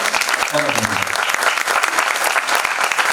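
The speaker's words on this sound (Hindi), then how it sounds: "एक बार जोरदार तालियों के साथ ललित जी का स्वागत।" An audience claps loudly to welcome a guest onto the stage at a theatre performance, dense applause filling the whole stretch with a voice briefly audible beneath it.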